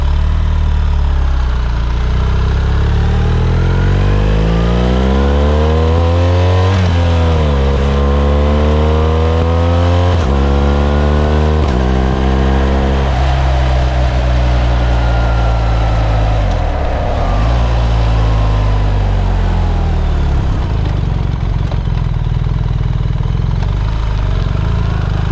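A BMW R1300GS motorcycle engine fitted with an Akrapovic exhaust runs loud and close, idling and then revving up and down in several rising and falling sweeps, with no talk over it.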